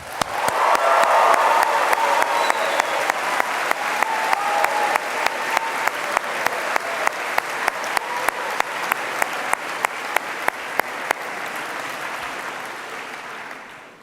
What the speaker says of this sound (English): Graduands, please join me in a round of applause, a whoop and a yelp to thank all of those who have helped you along the way.